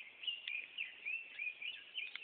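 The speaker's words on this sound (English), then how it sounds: "hear the birds tweeting" Birds tweet in open wilderness near a freshwater fishing spot, a series of faint, high repeated chirps arriving in quick rhythmic bursts over a quiet background.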